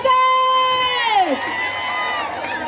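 An audience at a lavani dance performance in Kolhapur cheers, with loud, drawn-out whooping calls sliding downward over a background of crowd noise, close and energetic.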